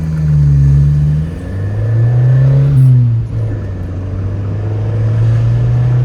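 A station wagon's engine accelerating hard in traffic, pulling past a Kia minivan: a loud, close, low droning roar that rises in pitch as the revs climb, then holds steady.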